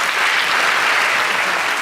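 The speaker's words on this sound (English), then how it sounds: "Let's give him a nice big round of applause," A theatre audience gives a volunteer brought on stage a loud, dense burst of clapping that holds steady throughout.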